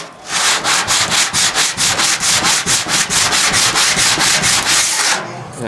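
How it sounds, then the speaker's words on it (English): Sandpaper scrubs back and forth across a hand-bumped metal panel, a close, loud, steady rasping in quick regular strokes, about three per second, lasting several seconds before stopping. "If I hit that with the sandpaper now"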